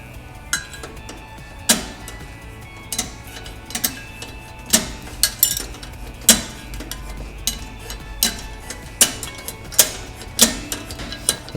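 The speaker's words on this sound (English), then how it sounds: "The sound you hear clicking is the self-adjuster clicking over the bumps." Drum brake self-adjuster on a 1964 Cadillac Eldorado clicking as the wheel is rolled by hand, a steady series of sharp, close clicks spaced roughly every half second to a second over a quiet background.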